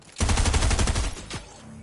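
Rapid automatic gunfire in the video game Fortnite, a fast burst of close, loud shots lasting about a second, followed by a lighter trailing shot and game ambience.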